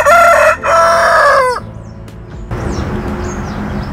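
A Bhimavaram fighting cock crows once, loud and close, with a long cock-a-doodle-doo broken by a brief pause. Quieter rustling and faint bird chirps follow.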